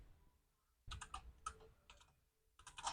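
A computer keyboard is typed on close by in short, quick bursts separated by brief pauses, with no voices.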